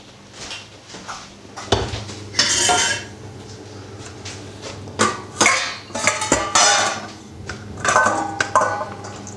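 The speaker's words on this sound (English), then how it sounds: "put it in the salad bowl." Drained wild rice is spooned into a salad bowl, with repeated clinks and scrapes of a utensil against the dish and pot in irregular bursts, close and fairly loud, no speech.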